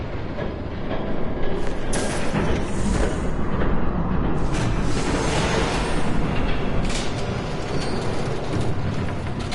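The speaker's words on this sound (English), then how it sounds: "There's a train coming." A train passing by in the Telltale Batman video game, a loud, steady broadband rumble with rattling carriages that swells and stays dense throughout, with no speech.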